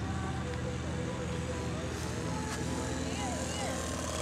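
A Piper Cub on floats comes in to land at a lakeshore, its propeller engine droning steadily and loudly throughout while excited voices shout and cheer over it.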